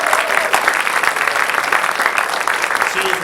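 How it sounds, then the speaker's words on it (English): A room full of people clapping steadily at a board meeting, dense and loud, with some cheering mixed in. "Please give her a round of applause."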